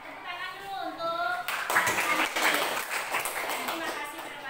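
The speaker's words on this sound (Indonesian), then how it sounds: "Ya, tepuk tangan dulu untuk" Classmates clap for a student reader during a classroom lesson on short stories; a voice is heard first, then a dense burst of hand clapping begins and continues to the end alongside children's chatter.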